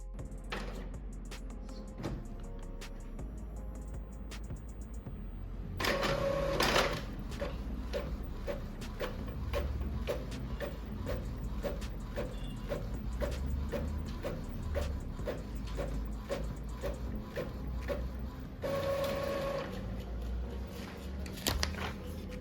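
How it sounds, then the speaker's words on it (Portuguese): A printer running a test page after being installed on a new computer: after a few quiet seconds a steady rapid mechanical chatter of repeated clicks and feeding sounds sets in and continues, close and moderately loud. "vou clicar em imprimir página de teste e vamos aguardar na impressora"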